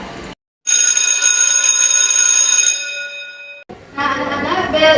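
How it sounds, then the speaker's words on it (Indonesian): An electric school break bell rings loud and steady for about three seconds in an Indonesian classroom, with voices talking just before and right after it. "bel istirahat sudah bunyi"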